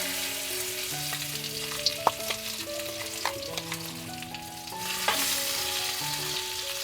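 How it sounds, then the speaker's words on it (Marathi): Ground misal masala sautés in a generous amount of hot oil in a pan, giving a steady sizzle with occasional stirring scrapes while faint tonal music plays underneath. "तर मसाला ना आपला चांगला व्यवस्थित परतून आपल्याला घ्यायचा आहे."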